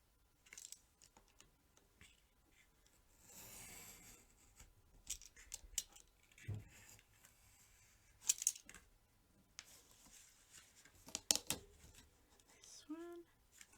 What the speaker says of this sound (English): I'm going to trim them off.